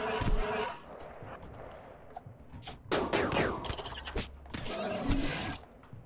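Rapid bursts of gunfire crackle in RimWorld, a colony combat game, coming in irregular volleys with mechanical clatter between them at moderate loudness and no talk.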